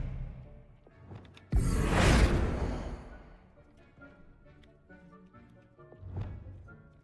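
A spell-casting burst from Hogwarts Legacy erupts as a sudden loud whoosh with a bright magical swish, fading over about a second, followed later by a softer swoosh amid quiet game ambience.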